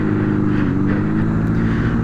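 A Honda CB750 motorcycle engine, freshly fitted with swapped carburetors, drones at a steady held rpm while riding, a continuous loud close-up hum with no rise or fall.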